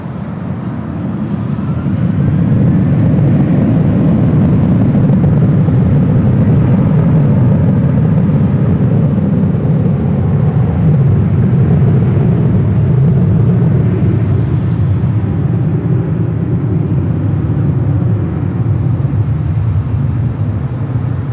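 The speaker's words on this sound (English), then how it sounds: "Airlines 909 taking off to Indianapolis on the 737-900ER" Delta Airlines Boeing 737-900ER jet taking off from LAX, a loud continuous low engine rumble that swells in and holds steady without talk.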